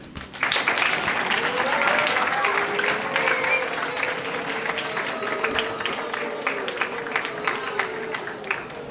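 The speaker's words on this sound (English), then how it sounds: "If we can give one more round of applause to our guests." A sustained round of audience applause for guests at a downtown community event, full and even near the start, then slowly tapering off with scattered claps and some murmured voices underneath.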